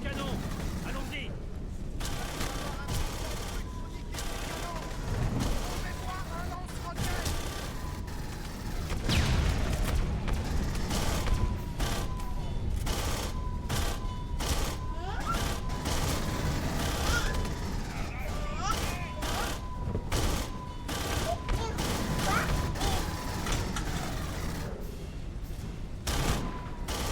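Cannons firing in a video game, a dense barrage of rapid booms and cracks going on continuously, with a person talking over it at times.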